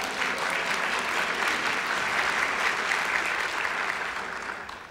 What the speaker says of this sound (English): something to clap about.